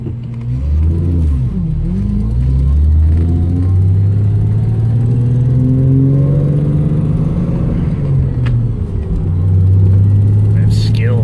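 A 1995 Ford Thunderbird SC with its supercharged engine still cold, revving in first gear: a loud, close rumbling growl that rises and falls through several climbs in pitch, holding steady near the end, with no talk.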